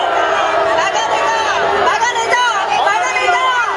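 A large crowd at a Korean political party rally outside the presidential office in Seoul roars and cheers together, a dense loud wall of voices sustained throughout.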